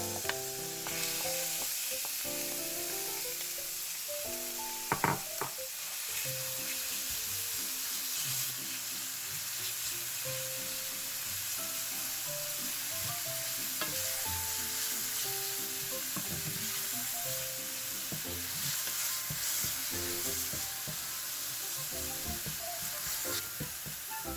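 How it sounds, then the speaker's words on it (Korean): Steady sizzling of pork frying in scallion oil in a hot pot, continuous and fairly loud, with occasional clinks of a utensil stirring. "돼지고기를 볶아주세요."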